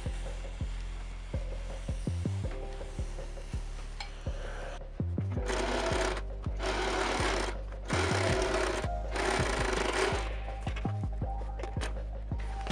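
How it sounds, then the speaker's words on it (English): Sewing machine stay-stitching a boning casing on a ball gown bodice, running steadily close by with a rapid mechanical hum and brief pauses between runs. "a stay stitch down, so I can create a casing for my boning"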